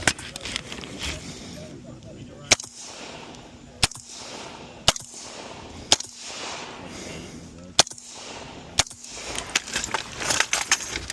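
Single gunshots ring out during a stage of a shooting competition, five or six sharp, loud cracks spaced a second or two apart over rustling movement and the shooter's steady commentary.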